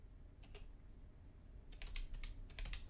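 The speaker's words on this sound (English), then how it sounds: "I apologize for my keyboard being so loud." Crisp clicks come from a new mechanical keyboard, close and fairly quiet. A short burst of keystrokes is followed by a pause, then a quicker cluster of taps, with no talking.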